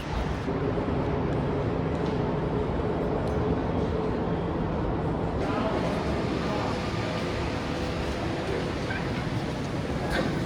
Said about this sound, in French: Je filme dans le métro.